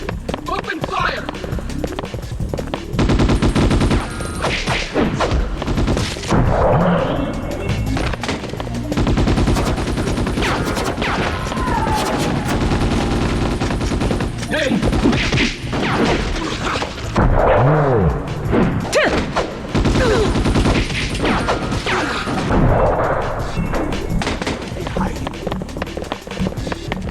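Gunfire in the Ghost in the Shell: Stand Alone Complex video game: rapid automatic bursts and single shots rattle loudly and almost continuously amid running footsteps, with voices talking over the shooting.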